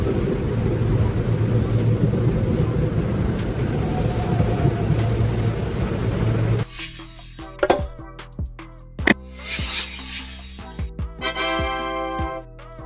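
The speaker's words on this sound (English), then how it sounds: "SEPTA trains help people go to school, work, and home, like a loyal travel buddy" A SEPTA train runs in Philadelphia with a steady, loud rolling rumble for several seconds. It then gives way to sharper metallic clanks and ringing tones, with no talking.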